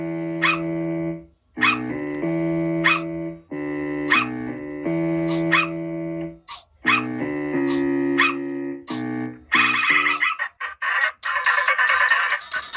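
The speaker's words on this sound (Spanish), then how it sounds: "Aquí tenemos a Grey y a Wenda con el bajo y los ladridos de perro." Stylized cartoon dog barks from the Sprunki music game ring out over a bass line in short, punchy, rhythmic bursts, repeating in a looping pattern before a brighter, noisier burst near the end.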